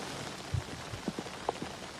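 Rain falls steadily on a golf course during the final round of a professional women's tournament, a soft continuous hiss with a few scattered low thumps and taps, no voices.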